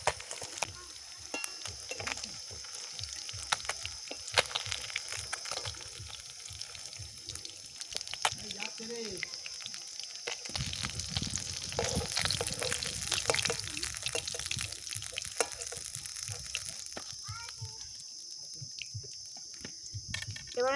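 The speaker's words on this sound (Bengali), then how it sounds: "এবার আমি বাকি মাছটাও ভেজে নেব।" Fish, bata pieces being cooked for a coconut malai curry, sizzle in hot oil in a pan, a steady hiss that grows fuller partway through, with scattered light clinks and faint talk in the background.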